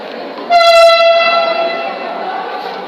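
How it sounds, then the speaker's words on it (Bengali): A metro rail train at a station sounds a loud horn with strong harmonic tones that starts abruptly, then holds steadily over rumbling rail noise as it pulls away. "ট্রেন এখান থেকে আবার টান দিচ্ছে, চলে যাচ্ছে।"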